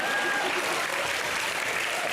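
Studio audience at an Indian comedy show breaking into strong, dense applause, a continuous wash of clapping throughout.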